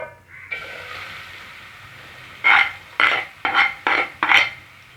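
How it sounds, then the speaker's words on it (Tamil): Onions sautéing in a pan for Tamil egg gravy give a steady close sizzle, broken near the end by four or five sharp scraping and clinking strokes from stirring. "வெங்காயம் நல்லா கோல்டன் ஃப்ரை ஆகிற வரைக்கும் வதக்கி விட்டுட்டே இருங்க."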